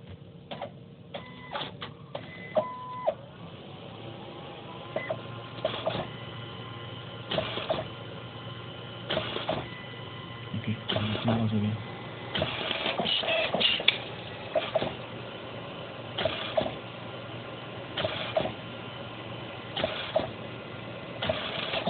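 A DS40 photo printer running a print job, giving steady mechanical whirring with repeated rhythmic clicks and feed thumps at regular intervals, close and moderately loud, with no talk.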